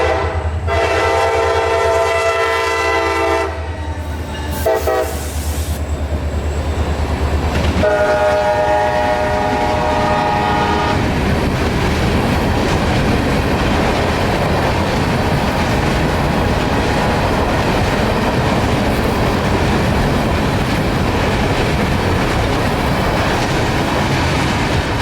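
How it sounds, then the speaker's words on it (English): A short CSX freight train of rock hoppers, hauled by two locomotives, sounds its horn loudly in long blasts at the start, then the cars roll past with steady clattering wheel noise that fills the rest of the stretch. "CSX 4332 and 2765 hauling this fairly short train of rock hoppers to Winston."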